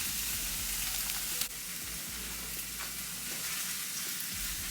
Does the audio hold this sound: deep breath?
no